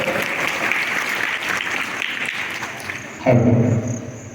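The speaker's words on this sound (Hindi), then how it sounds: "जोरदार तालियों से स्वागत है सर" An audience claps in welcome at a school foundation day celebration, a ragged round of applause that fades out before a louder, low sustained sound takes over near the end.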